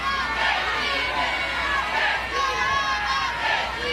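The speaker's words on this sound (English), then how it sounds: "You hear the Sooner crowd chanting, "We want to hit,"" Crowd at an Oklahoma Sooners college softball game in the Women's College World Series chanting in rhythmic waves, a dense stadium roar with play-by-play commentary over it.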